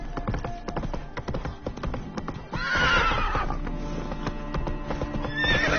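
Roach the horse in a video game trots with steady clip-clop hoofbeats, then gives a loud, clear neigh partway through and another whinny near the end.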